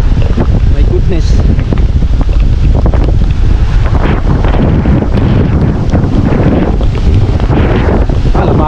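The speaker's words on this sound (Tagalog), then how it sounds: "Ayun, lakas ng alon." Loud surf and gusting wind from Typhoon Carina roar continuously, waves crashing close with heavy buffeting on the microphone; a voice is faintly audible underneath.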